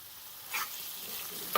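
Grated carrots cooking in ghee for gajar ka halwa, a soft steady sizzle with two short stirring scrapes, close and quiet.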